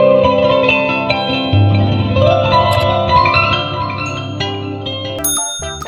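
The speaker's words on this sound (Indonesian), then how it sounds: "Sasando adalah alat musik petik tradisional khas Pulau Rote" Sasando, the plucked bamboo-tube and lontar-leaf string instrument of Rote Island, rings out in a steady run of bright, reverberant melodic notes with sustained overtones, clear and alone, before a brief shift near the end.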